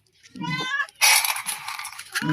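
Several hungry cats meow at feeding time, the calls close and insistent. A burst of clinking and rustling follows, likely the food being served, and a brief meow returns at the end.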